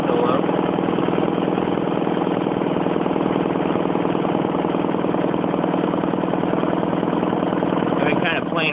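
A rebuilt air compressor runs steadily while filling its tank, giving a constant droning motor hum with an even mechanical rattle throughout and no pauses.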